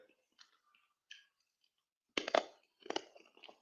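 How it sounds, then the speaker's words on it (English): Crunchy chewing of a Lifesaver hard candy close to the mouth, a few brief crackling bursts in irregular bursts between quiet gaps, with soft clicks earlier. "I'm eating a lifesaver right now."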